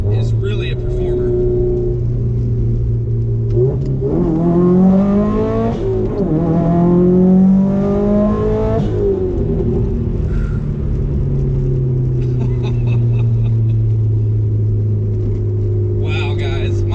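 A Subaru STI making 363 horsepower roars on a dyno, idling low before revving hard and climbing steadily toward 7,000 RPM, then dropping back to a loud, rumbling idle up close.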